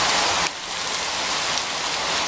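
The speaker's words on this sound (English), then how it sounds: "The rain, it's more of a rainmaker now." Heavy rain from Hurricane Isaac in 2012 pours in a dense, loud, steady hiss that stays constant throughout, with no voices.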